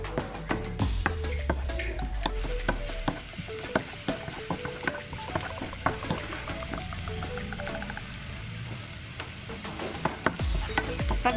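Beans frying in a pan with garlic, a steady sizzle broken by frequent clinks and scrapes of a utensil stirring them, close and fairly loud throughout, with no talking.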